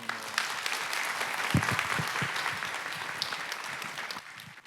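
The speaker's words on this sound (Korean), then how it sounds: "네, 다시 한번 뜨거운 박수 한번 주세요." A church congregation at a Friday worship service breaks into warm applause, dense clapping sustained for several seconds before tapering off near the end.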